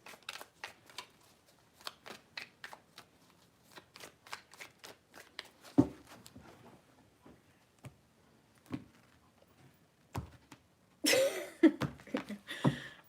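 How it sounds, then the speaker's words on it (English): Tarot cards shuffled by hand, a run of quick crisp riffling ticks in bursts, close and quiet, ending with a louder flurry of rapid card slaps; no talking. "3 shuffles."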